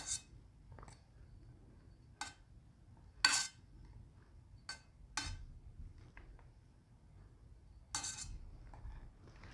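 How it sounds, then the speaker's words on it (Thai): Marian plums are packed into a glass jar and homemade syrup is added, making a scattered series of sharp glass-and-spoon clinks and taps, some close and bright, over a low steady background hum. "เดี๋ยวจะเอาเจ้าตัวมะยงชิดอะใส่ในกระปุกแล้วก็ จะเอาเจ้าน้ำเชื่อมที่เราทำไว้"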